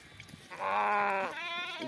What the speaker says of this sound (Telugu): గొర్రె పిల్లల్ని అయితే బయటకు వదిలినామో అరుచుకుంటూ అయితే పోతుండవి